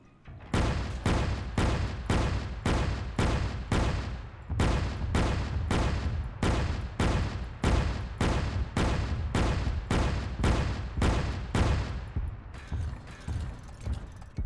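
Ship guns in ArmA 3 fire HEAT multi-purpose rounds in a fast, regular series of loud, close booming shots, about twenty of them, each cut off sharply. They stop shortly before the end.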